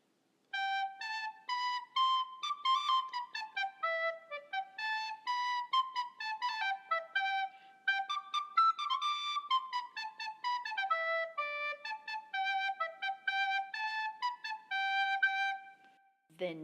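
Recorder played cleanly in a steady, flowing melody of clear sustained and repeated notes, heard alone and close for about sixteen seconds.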